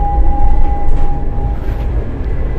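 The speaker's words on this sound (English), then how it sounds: "It's got some trams here which look like this." A tram runs through the German city of Cottbus, a steady loud rumble of wheels on rail with a faint sustained tone fading after a couple of seconds, no voices.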